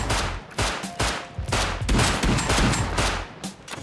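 In the survival video game Rust, gunfire rings out as a rapid series of loud, close shots, bursts of about a dozen reports with short gaps between them.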